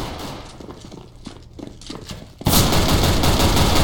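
Automatic gunfire in Counter-Strike: Global Offensive, scattered distant shots and footsteps first, then a sudden loud sustained burst of rifle fire close by that continues to the end.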